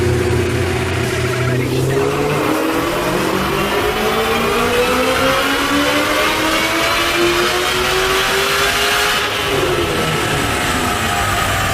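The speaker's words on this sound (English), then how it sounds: "We're going to go ahead and make another pull and see what she does." A 700whp Ford Mustang GT500 with new headers makes a dyno pull, its engine revving hard and climbing steadily in pitch, loud and close, before easing off near the end.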